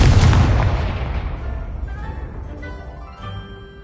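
A Confringo blasting spell detonates in Hogwarts Legacy, one loud booming explosion up front that rumbles and decays over several seconds into quieter game sounds.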